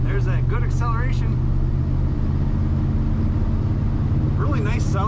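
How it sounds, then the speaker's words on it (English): Low, steady engine rumble of a 1979 Chevrolet C20 Camper Special square-body pickup cruising, heard close from the cab, with someone speaking over it at the beginning and again near the end. "Really nice sounding truck too."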